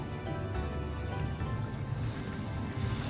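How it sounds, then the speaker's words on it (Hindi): Jaggery water pours into tamarind chutney with a soft, steady liquid trickle and light splashing, close and continuous with no talking. "अब साथ ही मैं इसके अंदर डाल दूंगी जो मैंने अभी गुड़ का पानी बनाया है"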